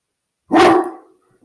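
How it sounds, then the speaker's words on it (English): A single big dog bark, loud and close, one sharp burst that fades into a short tail, with no other sound around it. "Big bark."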